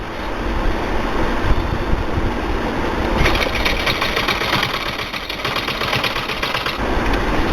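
Sewing machine stitching a belt for men's trousers, a steady close mechanical whir with a rapid rattling stitch rhythm that grows busier through the middle.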